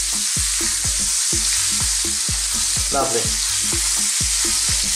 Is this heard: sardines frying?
yes